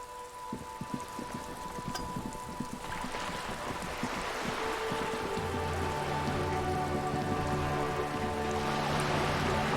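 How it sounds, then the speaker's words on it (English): Steady rain in the Disco Elysium video game, a dense hiss of drops on surfaces that grows fuller after the first few seconds, with low sustained ambient tones underneath and no talking. "All around you, rain keeps falling down."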